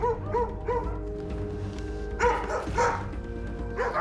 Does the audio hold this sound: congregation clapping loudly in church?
no